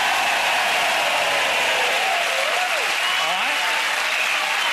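A television studio audience claps in a sustained, even wash of applause on a Friday-night comedy entertainment show, with faint tonal voice-like sounds drifting underneath.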